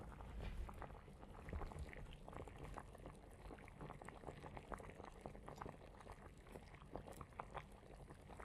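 Steady bubbling and churning of boiling water in a pot for cooking gnocchi, a dense continuous rumble with frequent small pops, close and fairly constant throughout.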